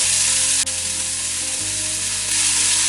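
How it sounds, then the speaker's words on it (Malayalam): Chicken pieces go into a hot pan of mixed spices for an Arabian chicken kabsa, raising a loud, steady, close sizzle that fills the whole stretch without any talking. "നന്നായി മിക്സ് ചെയ്തതിന് ശേഷം നമുക്ക് ചിക്കൻ അതിലേക്ക് ആഡ് ചെയ്ത് കൊടുക്കാം."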